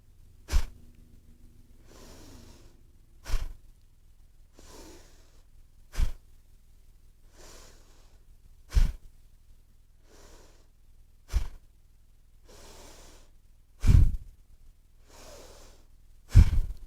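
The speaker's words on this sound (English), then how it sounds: "So inhale and exhale." Slow, steady yoga breathing, with sharp audible inhales and exhales spaced every few seconds, close and clear against quiet background hiss and no talk.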